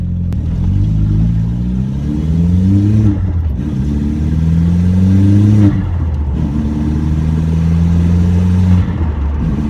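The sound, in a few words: turbo and blow-off valve of 2003 VW Jetta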